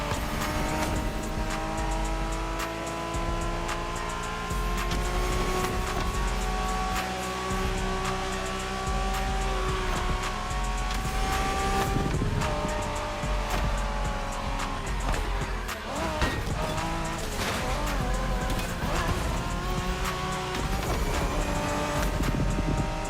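A 1990s Honda NSX driven in the racing game The Crew Motorfest around O'ahu, a steady high-revving engine drone with gear changes, tire squeals and skids partway through, loud and close throughout.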